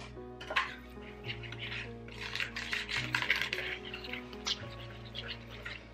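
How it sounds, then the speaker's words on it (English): A hand whisk beats bread batter in a bowl, giving uneven bursts of soft scraping and clattering strokes against the sides, fairly faint and close, with a low steady hum underneath. "So I'm going back to the old fashioned way and I'm getting out my trusty whisk."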